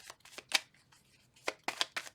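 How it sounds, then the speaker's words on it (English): Tarot cards shuffle in quick riffling bursts, two clusters of crisp flutters split by a short pause, close and fairly quiet with no voices. "Two more shuffles."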